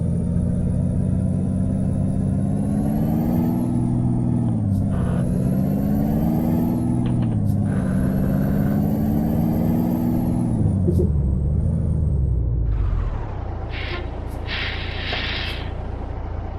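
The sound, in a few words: truck gears grinding in Euro Truck Simulator 2 video game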